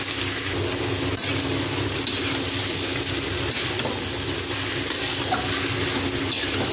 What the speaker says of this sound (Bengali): এবার এটা ভাজা ভাজা হয়ে গেলে আমি কেটে রাখা কুমড়োগুলো দিয়ে দিলাম